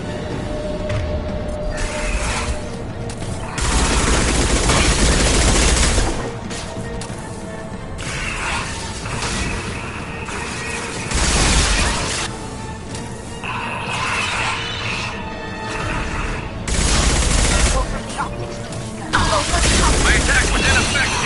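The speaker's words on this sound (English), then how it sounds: "Firing a high-impact shot." High-impact shots fired in a video game, heavy booming blasts repeating across the stretch amid loud crashing and mechanical clatter, with speech passing over parts of it.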